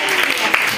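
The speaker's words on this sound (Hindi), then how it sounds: "यस जोरदार ताली बजा दो नेहा के लिए।" A class of students breaks into applause for a classmate, a steady, loud wash of many clapping hands filling a brief moment without pause.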